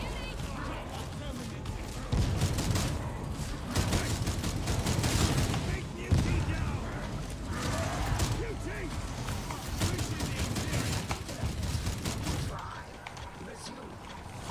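Gunfire in the co-op shooter Warhammer 40,000: Darktide, with dense, sustained bursts of shots over a rumbling battle backdrop that runs nearly the whole time, while a player talks over it.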